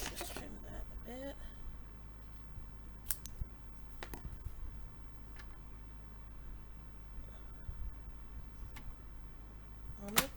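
Scissors make quiet, sparse snips and rasps trimming paper for a handmade card, with faint handling noise between cuts.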